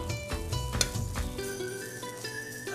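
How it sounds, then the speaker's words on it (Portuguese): Sun-dried beef sizzles and crackles steadily in olive oil in a hot frying pan, close and continuous, with a few stirring clatters. "Espere por 5 minutos e refogue com um pouco de azeite numa frigideira quente."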